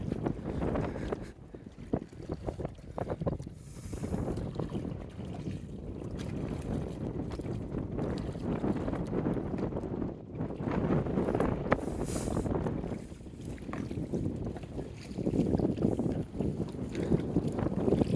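Gusty wind buffets the microphone on a small river boat near a char, with rumbling surges rising and falling over faint water sounds. No one speaks.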